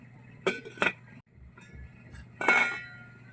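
A few metallic clinks and clatters of a lid being handled and set onto a cooking pot, with a low hum underneath.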